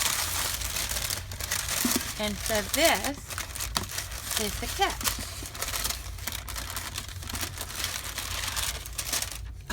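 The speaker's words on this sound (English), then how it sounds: "this is a matching paper, which is brown paper. Sorry for the noise." Brown paper from a Paper Pumpkin craft kit crinkles and rustles close by in bursts as it is unwrapped and handled, with someone talking over much of it.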